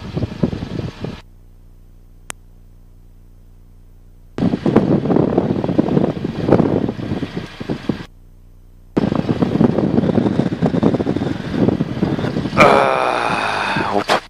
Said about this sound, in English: I get behind the school here and we'll get out of some of the wind